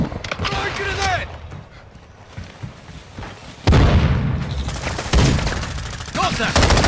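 Grenade blasts and gunfire in Call of Duty Modern Warfare 2 team deathmatch, with loud booming bursts and crackling shots over a busy battle din and a brief voice call.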